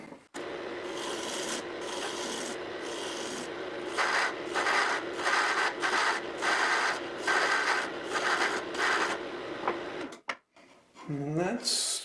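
Close, steady rhythmic rasping as the ends of a wooden tortilla roller are tapered, a run of repeated strokes ending in a brief pause and a short squeak.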